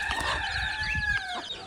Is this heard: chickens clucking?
yes